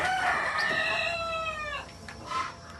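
A rooster on a farm of native country chickens crows once in a long, loud, drawn-out call, followed by softer clucking from the flock nearby.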